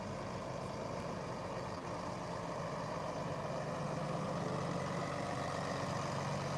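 Truck engines idle and rumble steadily at a winter consignment auction as trailers are moved into place, a continuous low heavy drone with no talk.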